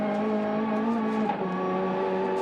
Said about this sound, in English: You hear that turbo come on like a bomb. Heaps of wheel spin.